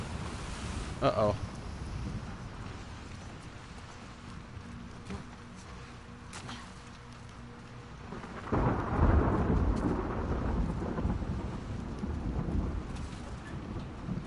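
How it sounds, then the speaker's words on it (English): Stormy weather in The Last of Us Part II, with thunder rumbling and rain falling, building to a louder, denser roar after the midpoint; a brief spoken exclamation comes near the start. "Storm's really picking up there, too."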